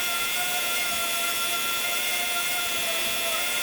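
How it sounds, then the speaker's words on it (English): A DA sander fitted with 40 grit running steadily on rusty sheet metal of a 1970 Chevy C20 truck, a continuous loud high whine and hiss from close by, with no break. "use a DA sander just to kind of clean up the area a little bit more"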